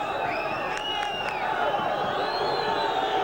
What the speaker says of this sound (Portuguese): a torcida protesta porque a reversão foi marcada